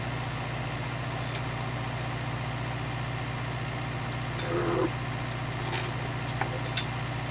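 A Fordson Major and a Ford 5000 tractor idle together on hay duty, a steady low engine throb held throughout with a few faint clicks and a brief rustle near the end.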